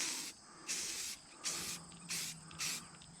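Five short hissing bursts of Rust-Oleum sand-textured spray paint from an aerosol can, applied around the bottom of a duck boat, evenly spaced and close, with quiet gaps between them.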